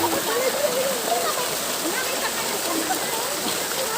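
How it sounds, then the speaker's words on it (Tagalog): Water pours steadily from an outdoor shower at Green Nature Resort in Nagcarlan, Laguna, a loud continuous rushing splash, with people talking faintly underneath. "may shower po dito"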